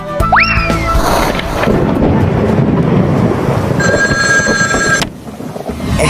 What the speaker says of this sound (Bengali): যাই, বল্টুকে ফোন করে ডাকি।